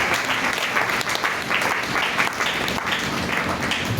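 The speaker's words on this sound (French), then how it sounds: "Acclame encore très fort ta famille." A church congregation applauds loudly and continuously, dense clapping from many hands filling the space without a break.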